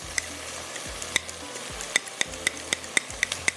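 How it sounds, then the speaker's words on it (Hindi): Yogurt whisked for biryani, a utensil clicking rhythmically against the bowl in quick, sharp taps, close up and fairly quiet, with no talking. "दही को थोड़ा सा फेंट लेते हैं"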